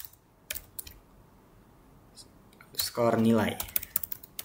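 Clicky computer keyboard keystrokes come in short bursts and single taps, close and crisp, while a person speaks briefly in the middle.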